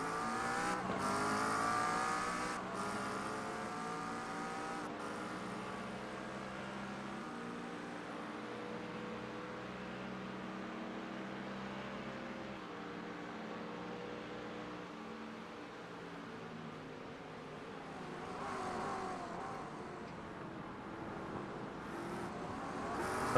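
GT3 race cars lapping Monza in the iRacing sim, a sustained engine drone with shifting revs and gear changes, steady and moderately loud across the whole stretch.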